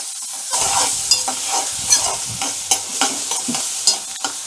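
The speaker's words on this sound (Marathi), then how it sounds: "तर आता कांदा भाजत आला आहे बघा, थोडा मऊ झाला आहे." Onions fry and sizzle in a pan for a vegetable dish of cowpea pods, with a spatula stirring in repeated scraping strokes over a steady close crackle.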